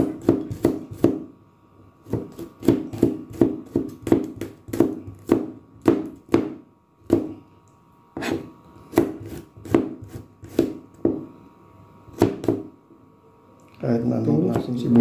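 A knife chops garlic on a board in a run of sharp, evenly paced close taps, with a short pause midway and a busier rustle of handling at the end.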